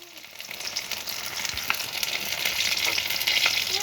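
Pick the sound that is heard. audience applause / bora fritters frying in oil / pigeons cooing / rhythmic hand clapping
bora fritters frying in oil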